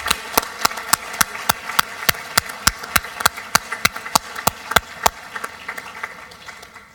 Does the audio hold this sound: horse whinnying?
no